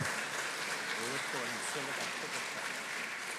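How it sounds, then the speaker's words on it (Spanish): Audience applause at a ceremony, a steady wash of clapping under a voice speaking over it, moderately faint and continuous. "Fuerte aplauso"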